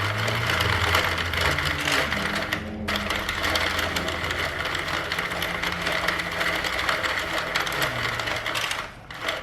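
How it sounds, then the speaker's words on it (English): A Sentro knitting machine cranked with no yarn attached whirs steadily with a continuous mechanical clatter, close and fairly loud, broken by a brief pause near the start and a dip at the end. "I'm just gonna now just wind it without any yarn attached, and then that should take it off the machine"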